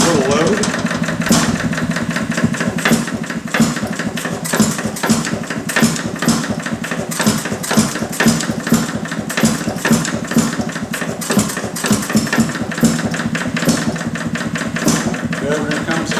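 A Detroit Engine Works 2HP stationary engine runs with a rag wrapped around its pulley as a load, giving a steady rapid train of loud mechanical thumps while someone talks over it.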